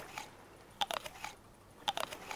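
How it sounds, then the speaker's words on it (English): Chewing coconut in Stranded Deep sounds as two quick clusters of crisp, crunchy bites, each a few sharp snaps close together, separated by a short pause over quiet background. "And I chew on my coconuts."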